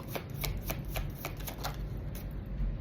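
Tarot cards are shuffled in a quick run of crisp riffling flicks, about a dozen rapid snaps at close range, with no talking over them.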